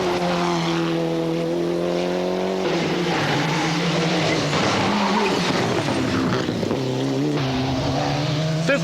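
A Toyota rally car at the 1996 Rally Vinho da Madeira in Portugal drives a stage, its engine loud and close, shifting pitch through gear changes and revs for several seconds, with tire noise and no talk.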